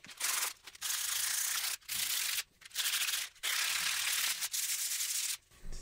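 Hand sanding a turbo M50 engine part ahead of ceramic coating: loud, close abrasive rubbing strokes in bursts of one to two seconds, broken by brief silent gaps.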